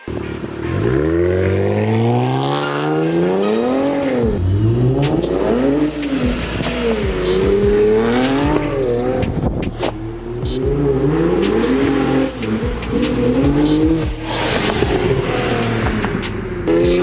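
Infiniti Q50 Red Sport 3.0 twin-turbo fitted with an HKS blow-off valve, heard from the cabin on the road: a series of partial-throttle pulls, engine note rising and falling repeatedly, each lift-off followed by a brief hissing valve release.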